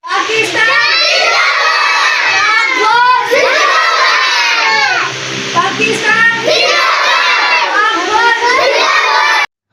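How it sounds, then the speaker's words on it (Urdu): Students at a school ceremony in Pakistan shouting slogans together in a loud, sustained crowd of young voices, with rising and falling chant-like bursts throughout. "تمام طلباء نے پاکستان زندہ باد اور پاک فوج زندہ باد کے نعرے لگائے"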